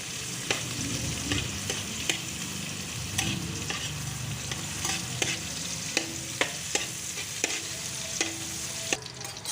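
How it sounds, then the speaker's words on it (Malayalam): Crushed ginger, garlic and green chilli sautéing in hot oil, a steady bright sizzle broken by repeated sharp scrapes and taps of a spatula against the pan, close and continuous. "നന്നായി വഴറ്റുക."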